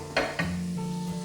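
Dried prawns and winged beans are stirred in frying oil in a pan: two quick scraping strokes of the utensil, then a steady close sizzle running underneath, brief and without speech.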